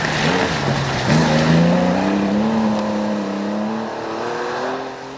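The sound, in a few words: 3-litre Porsche rally car driving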